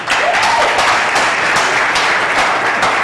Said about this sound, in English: she deserves a lot of round of applause and cheering